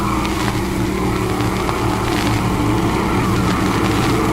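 Race cars roar around the oval on the first lap of a feature event at Stateline Speedway, a dense, continuous engine drone with rising revs and passing surges, loud and steady throughout.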